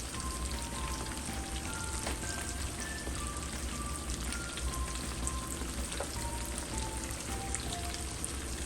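Mustard-coated fish frying in a pan until golden and crispy, Southern style: a steady, dense crackling sizzle that runs unbroken throughout, with no one talking.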